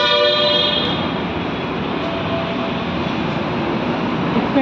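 A train rolls past close by, a loud sustained rumble with grinding and rattling wheels that holds steady throughout, with no voices over it.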